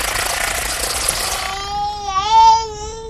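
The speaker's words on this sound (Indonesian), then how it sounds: "Samantha pun segera mengubah pesan untuk dikirim kembali pada YRR dengan menambahkan sedikit lonjakan suara yang mirip dengan suara tangisan bayi" A wavering, wailing tone like an infant's cry, added into a transmitted signal, rises out of a bed of loud broadband static halfway through, then swells and bends in pitch for about a second and a half.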